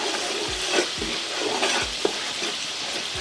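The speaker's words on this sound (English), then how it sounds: "Give it a quick stir." Turmeric powder, biryani masala, green chilli and dried aloo bukhara plums sizzle in a pan for kofta biryani, with several rhythmic scraping stirs cutting through the constant frying hiss, no voices.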